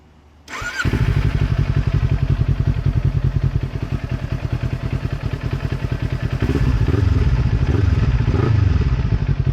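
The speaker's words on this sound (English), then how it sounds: "let's do a quick little startup of this little Ninja 400 and see what she sounds like" A 2023 Kawasaki Ninja 400 with an aftermarket exhaust, baffle still in, cranks and fires up, then settles into a loud, rhythmic, throbbing idle with a couple of brief blips of the throttle.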